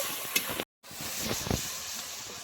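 Spice paste mixed with sugar and curdled sour yogurt sizzles in a pan for a cauliflower roast, with a steady hissing fry broken by a brief silent gap and soft stirring scrapes.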